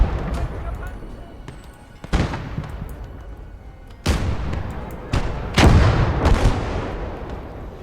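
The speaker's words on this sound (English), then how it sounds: "I want you in the centre of town where you can get some mortar fire." Mortar and artillery fire in a World War II battle game: several heavy booming blasts land a second or two apart, loud and close, over a constant rumbling battlefield background.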